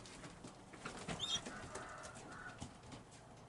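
Racing pigeons coo softly inside a loft, a faint low murmur under general room noise with a brief brighter chirp, heard from a short distance.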